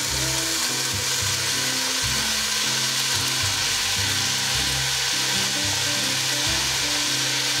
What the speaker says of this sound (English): Got some butter in here and we're just gonna add these fish in.